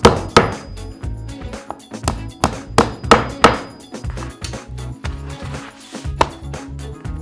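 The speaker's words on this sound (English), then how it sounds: "carefully tap in with a hammer" Series of sharp hammer taps driving inserts into an oversized wooden picture frame, loud and close, in uneven bursts of several strikes with short pauses between.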